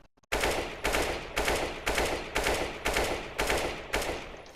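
Rifle fire in CS:GO, tapped in short bursts: eight sharp, evenly spaced shots, each with a brief decaying tail, loud and alone.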